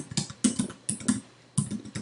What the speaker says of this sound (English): So I'm just going to put the caps lock on my keyboard.